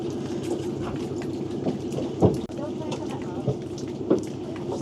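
Steady heavy rain pours at an outdoor horse shelter, with low rumbles of thunder rolling underneath and brief louder swells; a few faint voices come and go beneath the downpour.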